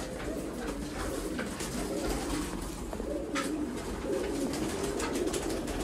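A flock of pigeons from a 120-bird loft setup coos steadily and close by, with overlapping soft calls forming a continuous murmur and no voices.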